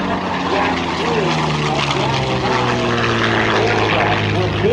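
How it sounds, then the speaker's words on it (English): A Yak-9 propeller fighter flies at an airshow, its piston engine droning steadily and loudly for the whole stretch, with a slight rise and fall in pitch as it passes. "This amazing airplane."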